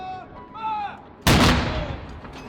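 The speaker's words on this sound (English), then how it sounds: "The Queen turned 96 this week as the gun salutes echoed around London" One ceremonial gun salute booms across London for the Queen's 96th birthday, a sudden loud blast with a trailing echo that follows a moment of speech.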